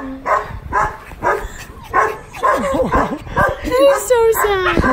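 A dog barks, yips and whimpers in quick bursts close by while a person talks over it in a newly moved-into home in Hawaii.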